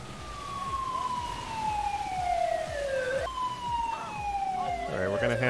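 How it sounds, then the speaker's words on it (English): Wailing emergency vehicle sirens at a big fire scene in the video game GTA 5, several tones sweeping downward in repeated loud cycles, overlapping and layered over the game's background rumble. "Wish these people would turn off their sirens."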